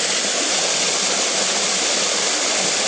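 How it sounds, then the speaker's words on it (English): A waterfall at Moore Cove in North Carolina, heard from the top of the falls, makes a loud, steady, broadband roar of rushing water. The roar fills the clip without a break. "And this is on top of a waterfall."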